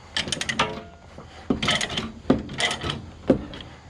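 A chain binder ratchet cranked to tighten a load chain, giving several bursts of metallic clicking and clanking in an uneven rhythm, close and fairly loud with brief pauses between strokes.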